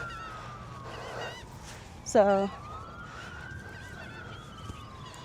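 A siren wail, probably a police or emergency vehicle, rises and sweeps steadily through the middle of the outdoor scene, faint to moderate and distant-sounding, with a brief voice and other outdoor noise over it.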